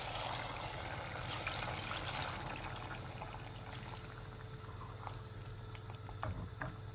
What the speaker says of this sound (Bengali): অল্প করে একটু পানি দিয়ে দিয়েছি।